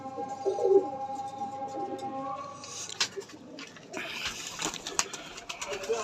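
Soft, low pigeon coos repeat in the background amid a busy outdoor ambience, with occasional sharp clicks and rustles.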